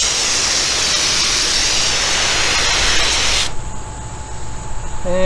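A spray bottle misting water onto a freshly rinsed car hood, a loud continuous hiss lasting a few seconds and then cutting off abruptly, leaving quieter background.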